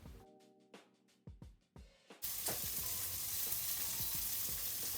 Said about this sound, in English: my oil's hot. We're gonna add the onions and we're gonna add the spring onions